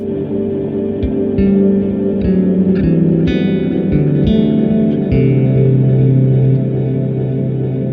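A synthesizer bass line through an Erica Synths Echolocator delay and 50% reverb plays a sequence of sustained notes, each trailing into reverb and repeating echoes, steady and loud with no voices.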